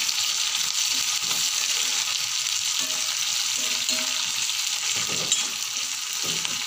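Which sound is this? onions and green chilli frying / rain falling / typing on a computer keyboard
onions and green chilli frying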